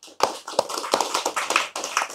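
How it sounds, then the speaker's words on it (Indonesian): Hands clapping in a short burst of applause, several people, sharp overlapping claps close by with no talk. "Tepuk tangan."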